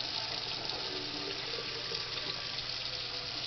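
Water poured off rinsed rice in a kitchen, a steady rushing splash of liquid running out continuously and fairly loud, with no talking.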